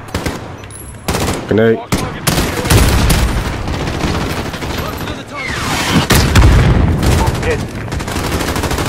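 Call of Duty Modern Warfare combat roars with dense automatic gunfire and booming explosions, loud and nearly continuous, while someone talks over the battle.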